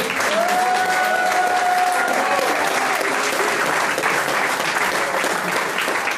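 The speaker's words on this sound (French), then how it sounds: "On applaudit très fort Anne-Françoise Collet." Loud, sustained applause from an audience at a political meeting in Châtelet fills the whole stretch, dense and steady, with a few faint voices and a whistle-like tone rising through it.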